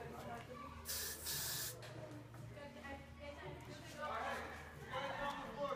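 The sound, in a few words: hairspray being sprayed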